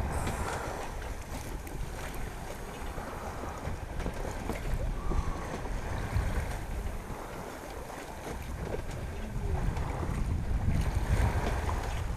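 A sailboat running under a full genoa and mainsail, with steady wind rush, water noise and hull hiss continuing loud and close throughout, with no speech.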